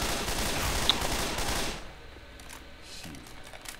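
Gunfire in the Left 4 Dead 2 video game: a loud, dense burst of rapid shots for nearly two seconds, then quieter scattered game sounds with a sharp hit at the end.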